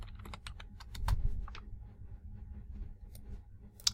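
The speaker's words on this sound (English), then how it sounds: "I'll type in fountain" A short keyword is typed on a computer keyboard in a burst of quick, close key clicks that slows into a few scattered taps, ending in one sharper keystroke.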